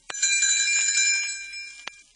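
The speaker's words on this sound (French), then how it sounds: "Elle fera tinter ses petites cloches" Small bells tinkle in a bright, sustained shimmer for about two seconds, framed by a sharp ding at the start and another near the end, with no voices present.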